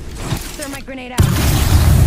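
A frag grenade detonates in Apex Legends, a sudden heavy boom that cuts in after a short whistling sweep, followed by a sustained rumbling roar.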